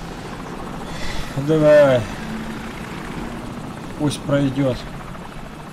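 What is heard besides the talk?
enemy helicopter flying overhead in Call of Duty 4 video game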